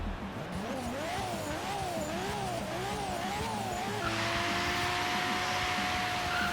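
Nissan R33 GTR LM race car engine in Forza Horizon 3, revving hard up and down in a steady wavering pattern, then holding a high sustained whine near 10,000 RPM, loud and close.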